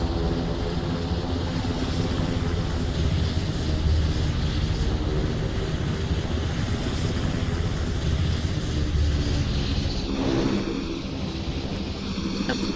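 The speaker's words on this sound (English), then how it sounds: "Really exceeding about 130 knots this aircraft." A propeller aircraft flying at an airshow in the Roblox game PTFS, pushing past about 130 knots, gives a steady, loud, continuous engine drone that holds unbroken throughout with no talking.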